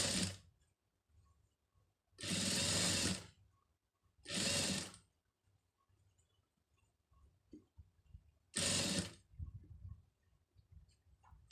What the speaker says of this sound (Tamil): அதாவது லைனிங் பீஸ் வந்து வெளியில் தெரியாத அளவுக்கு வந்து கரெக்டாக ஓரத்து தையல் வந்து போட்டுருங்க